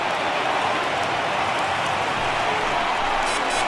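A sold-out stadium crowd of about 41,800 cheers at a Yankees–Mets game in Flushing in a baseball video game, a steady dense roar of applause and voices holding at an even level throughout.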